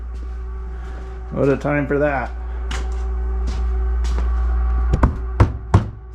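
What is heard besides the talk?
refrigerator humming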